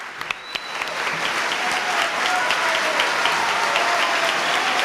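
Studio audience giving a sustained round of applause for journalists of the recently closed Cambio magazine, dense continuous clapping at moderate level with a murmur of crowd underneath.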